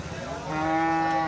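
A single long, loud cow moo with a rising, sustained tone, close by against faint background noise, from bull cattle held at a livestock market in Khochabari, Thakurgaon, Bangladesh.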